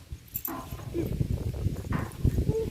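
A young puppy yelps and whimpers in short, high bursts while being petted, amid background chatter and soft thumping in a village, fairly faint.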